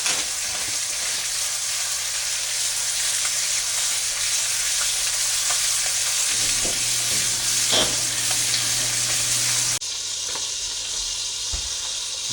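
Trout frying in butter in a 12-inch Lodge cast iron pan makes a loud, steady sizzle with faint scrapes and an abrupt drop in intensity near the end, heard close with no talk.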